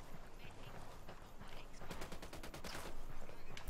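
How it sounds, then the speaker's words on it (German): Rapid bursts of automatic gunfire from the video game Ghost Recon: Wildlands rattle in quick succession, building toward the end over a noisy, busy background. "Hallo, wo kommen die Schüsse her?"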